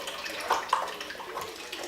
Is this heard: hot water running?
yes